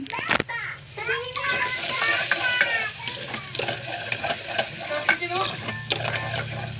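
Garlic and onion fry in a pan with a continuous close sizzle and stirring scrapes, while someone talks and children's voices chatter over it.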